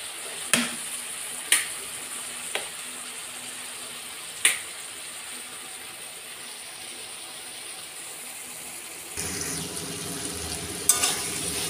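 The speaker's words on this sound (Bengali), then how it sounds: "দেখতেই পাচ্ছ মশলাগুলো ভাজা ভাজা হয়ে গিয়ে মশলার থেকে তেল ছাড়তে শুরু করেছে।" Spice masala fries in oil in a pan for a katla fish jhol with cauliflower and potato: a faint, steady sizzle with a few sharp knocks, then louder stirring and bubbling toward the end.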